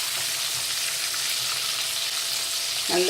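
Potato wedges deep fry in hot oil for homemade fish and chips, a dense continuous hiss and crackle of bubbling oil heard up close, with a faint clink near the end.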